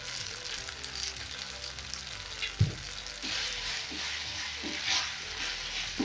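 Soy sauce sizzling as it hits a frying sausage pasta sauce in a pan: a continuous close crackle and hiss with a few stirring scrapes and pops, and no speech.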